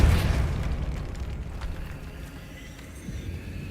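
Depulso force spell cast in Hogwarts Legacy: a booming, rumbling burst that opens loud and decays into a sustained low rumble, with faint game sounds underneath.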